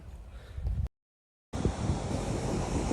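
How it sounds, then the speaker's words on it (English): Strong wind at the seaside in Alicante, Spain, buffets the microphone with a deep, rumbling roar, cut by a short silence, then resumes with broad hissing noise like surf. "it's really windy"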